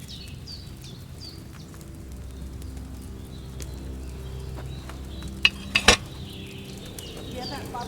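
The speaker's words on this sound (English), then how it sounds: "Hear that bubbling? It's boiling." A cauldron of wine heats over a flame in the medieval game Kingdom Come: Deliverance 2, giving off soft, quiet bubbling with small pops and a few sharp metallic clinks against a low background.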